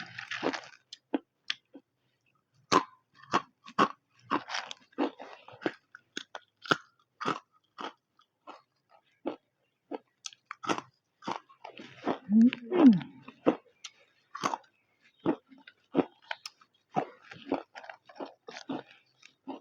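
Crisp oven-baked carrot vegetable chips crunched close up, a long run of sharp, irregular bites and chews with brief pauses between, loud against a quiet background.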